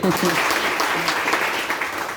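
Loud, sustained applause from an audience at a DXN gathering, with voices calling out over the clapping at the start.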